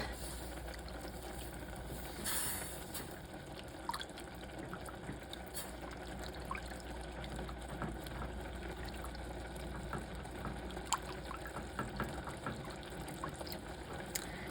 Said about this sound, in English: Now I'm going to add in about a 1/2 cup of milk and stir that all up.